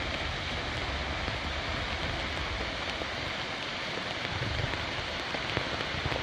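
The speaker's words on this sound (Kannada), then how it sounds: "ಪಶ್ಚಿಮ ಘಟ್ಟಗಳಲ್ಲಿ ಧಾರಾಕಾರ ಮಳೆಯಾಗ್ತಿದೆ" Torrential monsoon rain pours down in the Western Ghats, a dense, steady, loud hiss of water hitting surfaces with no pauses, and no voices present.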